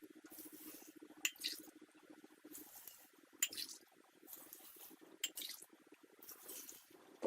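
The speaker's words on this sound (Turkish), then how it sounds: "Şimdi de bunların üzerine birer çay bardağı sirke ekliyorum." Apple cider vinegar poured over cucumbers in a jar for pickling, in short, faint splashing bursts with small glassy clinks between pours.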